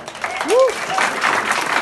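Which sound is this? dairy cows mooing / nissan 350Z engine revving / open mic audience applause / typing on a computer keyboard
open mic audience applause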